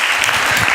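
Applause for Dr. Jafari from an audience at a knowledge-sharing talk for small and medium enterprises, heard as a short, dense, steady burst of clapping close to the mic with no speech over it.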